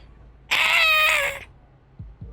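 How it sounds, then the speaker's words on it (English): A small, hairy two-foot-tall creature in the video game House Hunted 2 gives a single bright, wavering cat-like trill lasting about a second, close and clear, followed by a couple of faint low thumps. "It seemed to like that with the way it's trilling at you."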